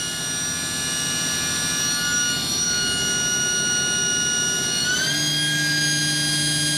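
A 2006 YCM Supermax XV1020A CNC vertical machining center spindle whines steadily at high speed, a dense layered tonal hum that abruptly steps up in pitch near the end as it accelerates, loud and close with no talk.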